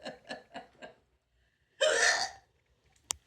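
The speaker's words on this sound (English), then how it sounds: "you try to talk and you hiccup at the same time and it comes out kind of funny" A person hiccups in a quiet room, with a few soft voiced catches followed by one sharp, loud burst of breathy sound and a brief click afterward, close to the listener.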